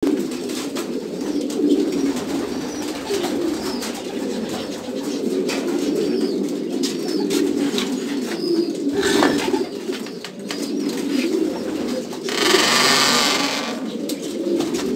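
Pigeons cooing steadily at close range in a loft, their low rolling calls continuing throughout, with occasional rustling and a brief rush of noise near the end.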